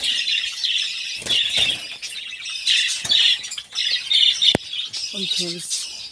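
Small caged Java sparrows squawk and chirp in sharp, excited bursts close by, with a brief rattle and a short low murmur near the end.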